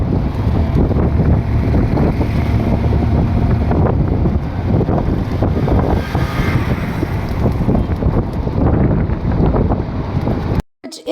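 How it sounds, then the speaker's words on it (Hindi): Strong stormy wind roars outdoors, buffeting the microphone with loud, continuous gusts and rumble for about ten seconds before cutting out abruptly near the end. "बहुत तेज़ यहाँ तूफ़ानी हवाएं चल"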